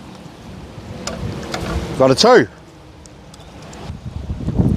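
Strong wind gusts across a golf course, a steady low rumble buffeting the microphone beneath people talking, with a brief rising whoosh in the middle.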